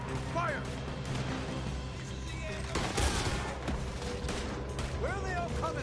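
A gunfight in the video game Red Dead Redemption 2 crackles with several sharp shots, the heaviest burst midway, under steady background game noise and intermittent voices.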